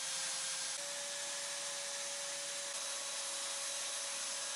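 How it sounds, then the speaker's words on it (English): A belt sander smooths the edges of sign letters, a steady, rather faint whirring rasp that runs evenly throughout with no voices. "I set up my belt sander so that I can smooth over the outside edges."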